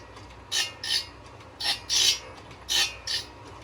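A saw grinding machine's wheel strikes the teeth of a saw blade in short raspy bursts, about six contacts in pairs, fairly close with a quiet hum between them.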